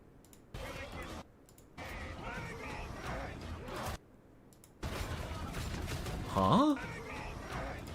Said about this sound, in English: Wait, where those grenades come from?